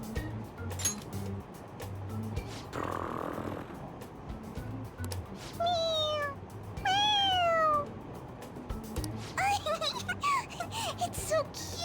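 Cat in the video game Persona 5 Royal meowing several times, drawn-out falling and rising cries in the second half, over quiet background game sounds and a soft snore-like noise.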